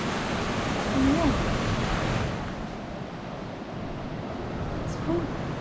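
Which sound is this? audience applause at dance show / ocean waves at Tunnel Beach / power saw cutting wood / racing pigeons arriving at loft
ocean waves at Tunnel Beach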